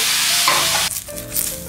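Okonomiyaki grills in a frying pan with a steady, loud broadband sizzle that drops abruptly near the end, then resumes softer with a faint tonal hum beneath, no voices present.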